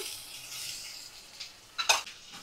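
Ginger garlic paste sizzles with mutton in a hot pan, a soft hiss topped by a couple of sharp stirring scrapes and clinks, close and moderately quiet.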